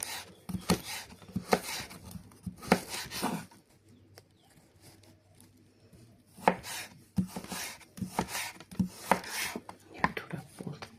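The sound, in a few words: chopping carrots with a knife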